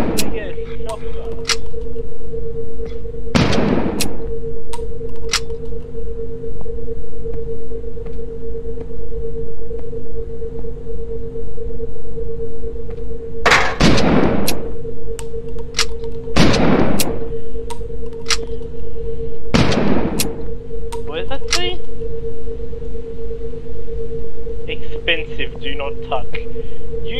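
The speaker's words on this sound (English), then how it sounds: "Where the f*** did I get a shotgun?" Shotgun blasts from the video game The Looker boom out as four loud, broad bursts spaced irregularly over a constant droning hum, with scattered small clicks between.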